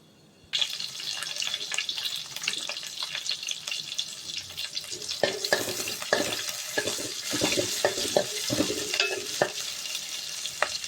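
Sliced onion, dried red chillies and curry leaves sizzle and crackle in a hot oiled pan with mustard seeds and cumin, with scraping stirs and sharp pops over a steady frying hiss.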